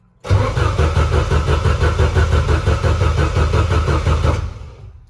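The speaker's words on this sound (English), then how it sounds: "we're gonna crank the engine by its starter and observe the RPM" A turbocharged Volvo wagon drift car's engine cranks on its starter for about four seconds. The churning has a loud, steady, rhythmic pulse, then cuts off, leaving near silence.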